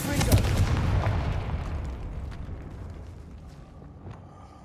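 A Confringo fire spell explodes in the Hogwarts Legacy video game: one loud booming blast near the start that rolls off into a long fading rumble, with a few faint later cracks.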